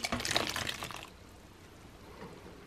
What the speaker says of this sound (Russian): Наливаем холодную воду